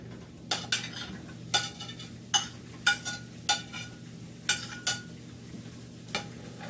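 Diced zucchini and yellow onion are pushed around a pan with cooked green beans, a series of distinct utensil scrapes and clacks over a faint sizzle.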